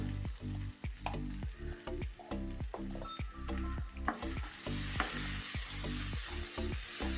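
Egg stir-fry (mezhukkupuratti) with ground pepper being stirred in a pan, a rhythmic run of repeated scraping strokes over a constant sizzle, close and fairly loud, the frying hiss swelling toward the end.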